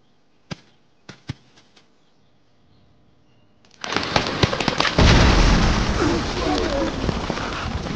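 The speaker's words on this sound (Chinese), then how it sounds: "这种果实在成熟期极易发生爆炸，其威力足以杀死一匹斑马。" An exploding jungle fruit in a thriller adventure film: a few sharp isolated pops, then a sudden loud blast that rolls into a sustained, crackling roar of debris.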